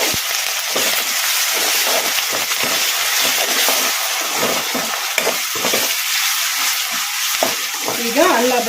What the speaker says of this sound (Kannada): ಬೆಳ್ಳುಳ್ಳಿ ಪೇಸ್ಟು ಹಸಿ ವಾಸನೆ ಹೋದವರೆಗೂ ಒಂದು ಎರಡು ನಿಮಿಷ ಈ ಥರ ಕಲಿಸ್ಕೊಂತ ಫ್ರೈ ಮಾಡ್ಕೊಂಬಿಡೋಣ